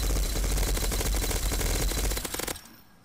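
Rapid machine gun fire in Garry's Mod, a fast steady stream of loud shots for about two and a half seconds that stops abruptly, leaving a faint tail.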